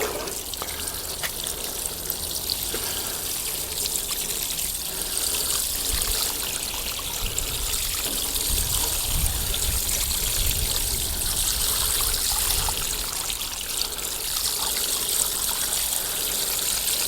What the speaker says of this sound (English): water's going to naturally fall down through the tower